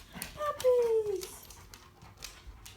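Puppies whimpering nearby in short high whines and yips, with people talking over them.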